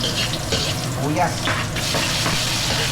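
Onion frying in cooking oil for sinigang sizzles and crackles steadily up close, with faint background noise mixed in and no clear talking.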